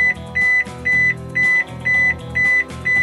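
Repeated electronic beeps sound heard from inside a car, a short tone pulsing at an even rhythm about twice per second, loud and clear with no talking.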